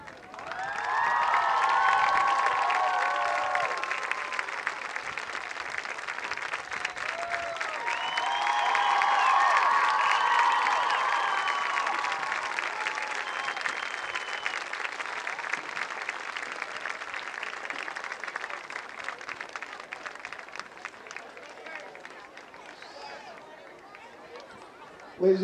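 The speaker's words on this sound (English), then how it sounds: "how about one more round of applause for our 2016 homecoming king and queen." Crowd applause and cheering in the stands at a high school football game during the homecoming king and queen crowning at midfield, rising and falling in waves and fading out over the open field.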